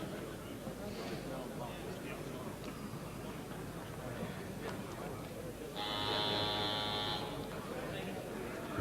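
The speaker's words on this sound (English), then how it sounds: "Ten-second buzzer." A boxing match's ten-second buzzer sounds once, a harsh electronic tone lasting about a second and a half, heard over a noisy arena crowd at a world title fight in a boxing ring.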